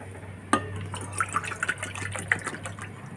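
Water poured from a bowl into another bowl to make sugar syrup, a sudden splash followed by uneven trickling and dripping, close and moderately quiet.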